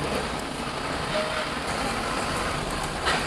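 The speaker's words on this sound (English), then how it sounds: "So just starting to drive, take a test drive of my car." A restored 15-year-old Maruti 800 car on a test drive gives a steady, smooth rumble of engine and road noise from inside the cabin, with no distinct events.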